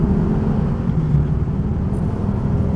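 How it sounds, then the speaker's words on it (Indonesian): Large vehicles rolling off a ferry make a loud, continuous low engine rumble close by, steady throughout with no talking. "mobil-mobil besar turun."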